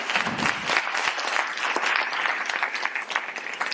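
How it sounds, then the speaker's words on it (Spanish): An audience at a university conference on the psychology of magic applauds a speaker, a dense, sustained burst of many hands clapping at close range, steady throughout without talk. "vamos a darle un fortísimo aplauso a José María"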